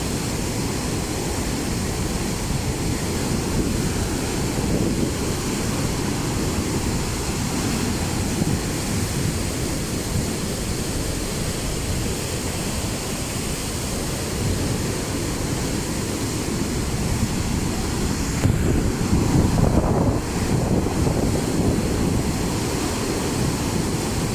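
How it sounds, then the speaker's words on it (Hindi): Fast-flowing water rushes through Qadrabad Barrage, a loud, constant broadband roar like heavy surf with no pauses, slightly louder near the end. "ये पानी की स्पीड चेक करें, मेरा तो करीब जाने से भी डर लग रहा है मुझे।"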